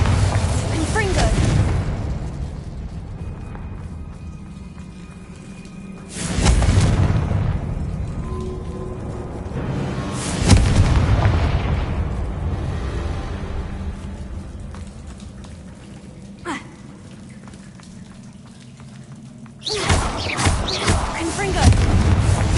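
Explosions from the Confringo spell in Hogwarts Legacy, a series of heavy booming bursts spaced several seconds apart amid ongoing combat noise, with a voice calling out in between.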